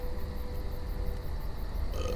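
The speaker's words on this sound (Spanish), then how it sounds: "relájate, que es un eructo" A long, low, rumbling burp drags on for about two seconds in a video game scene, loud and close, with a brief higher-pitched tail at the end.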